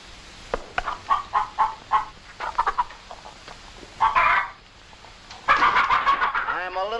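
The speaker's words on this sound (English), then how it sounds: "Well, feed the chickens." Chickens cluck in short bursts under a man's and another person's talk on a farmyard set, with clucks and voices overlapping throughout.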